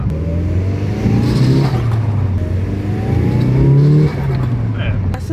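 A car's exhaust roars after a rear muffler modification, revving and rising in pitch as it accelerates, loud and close, with people talking over it.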